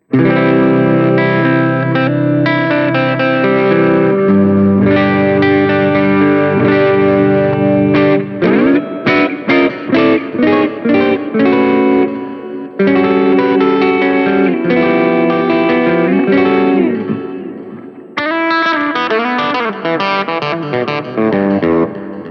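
Electric guitar through a Line 6 POD GO Bogner Shiva amp model, clean, slightly gritty tone, strummed chords and picked single notes for over twenty seconds, no talking.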